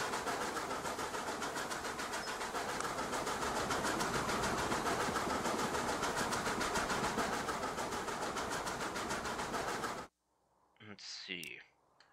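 Train running in the video game Transport Fever 2, a steady dense rumble with rapid rhythmic clicking of wheels on track, loud and continuous for about ten seconds before cutting off abruptly to a brief quieter passage.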